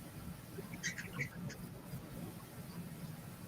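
Indoors, a bird gives a few brief nasal, duck-like quacks in a short cluster, fairly faint against a low background hum, then falls quiet.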